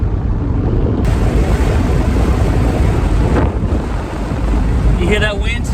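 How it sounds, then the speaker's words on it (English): Wind roaring through both open car windows at highway speed, a loud, continuous buffeting rush with low rumble, and a voice briefly heard near the end. "You hear that wind? It's so nice."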